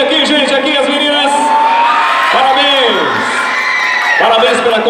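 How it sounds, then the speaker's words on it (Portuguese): A crowd at a student dance showcase in Itapetinga, Bahia, loudly cheers and whoops for a girls' dance group, with shouted voices rising and falling in a continuous roar. "Vamos aplaudir aqui, gente, aqui as meninas."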